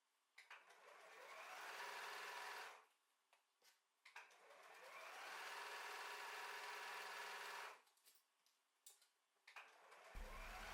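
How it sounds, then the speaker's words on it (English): Sewing machine stitching around the pocket fabric of a zipper pouch, two sustained runs of steady mechanical whirring several seconds long, separated by short pauses with small clicks and handling noises, close and fairly quiet. "stitch around the pocket fabric, apart from the bottom fold"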